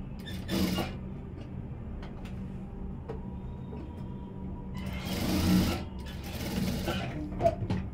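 A sewing machine stitches the back dart of a simple unlined blouse, giving a faint rapid mechanical whirr in short runs with a louder burst partway through, amid quiet handling noise.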